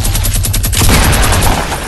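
Video game gunfire in a dense, loud, continuous rapid burst of shots with no pauses, close up and alone with no voices.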